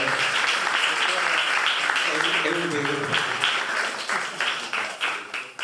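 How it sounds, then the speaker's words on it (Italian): An audience applauds at an Italian music event honoring the composer Pietro Sassoli in Ficarolo. A dense wash of clapping fills the room at moderate level while a voice speaks over it, and the clapping thins out and fades near the end. "E io farei un applauso"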